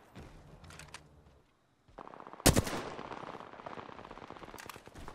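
Apex Legends gunfire rattles in rapid bursts, with a sharp loud shot cluster midway followed by sustained automatic fire and scattered shots at close range.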